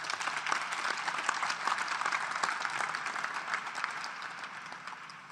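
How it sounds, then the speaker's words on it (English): Applause from an audience at a Rutgers press conference introducing a new women's basketball head coach, a steady wash of many hands clapping at moderate volume, slowly thinning toward the end. "Please give them a round of applause."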